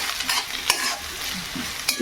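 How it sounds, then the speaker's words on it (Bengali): Potatoes fry in a pan with onion, giving a steady close sizzle broken by a few sharp scrapes of stirring, with no talk over it. "এই যে আলু ভাজা চাপিয়ে দিয়ে"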